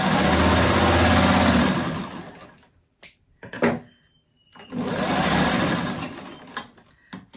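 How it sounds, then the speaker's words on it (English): A home sewing machine that is acting up, its thread caught, runs in two fast, loud buzzing bursts at close range, stalling in between with a few clunks and knocks. "My machine doesn't want to, it's acting up a little bit."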